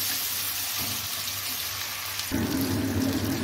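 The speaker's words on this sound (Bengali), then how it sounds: "এখন আমি টমেটোটা দিয়ে দিব, টমেটো কুচি। এটাও ভালো করে একটু ফ্রাই করে নেব।" Chopped tomato frying with onions in a hot pan, a steady close sizzle that jumps louder and brighter partway through as the tomato hits the oil, with no talking.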